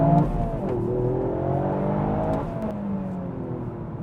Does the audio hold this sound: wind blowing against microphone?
no